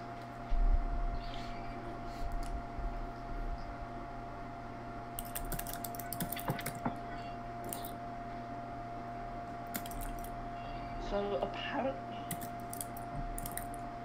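Computer keyboard typing in short clicky bursts, mostly in the middle and near the end, over a steady low hum and background noise.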